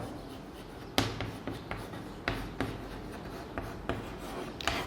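A pen writing a letter on paper, heard up close as soft continuous scratching with regular stroke accents and small taps, steady and quiet with no voices.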